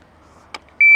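A shot timer at an outdoor shooting range gives a single loud, steady electronic start beep near the end, just after a brief clatter.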